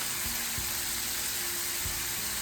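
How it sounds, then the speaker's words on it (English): A lamb chop seasoned shawarma-Cajun style sautés in oil, giving a steady, dense sizzle that fills the whole stretch with a few low knocks from the pan underneath. "And I'm gonna let this saute"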